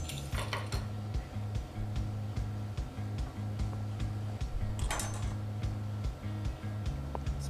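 Knife scraping and tapping against a plate while cutting into a rested steak, with repeated close clinks and light rhythmic sawing under a low steady background hum.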